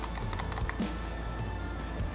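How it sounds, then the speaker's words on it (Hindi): Fingers tap rapidly across a backlit wireless computer keyboard, producing a steady stream of close clicky keystrokes over a low background hum. "अगर आपको आवाज़ आ रही हो इसकी, और इट्स अ बैकलेट कीबोर्ड।"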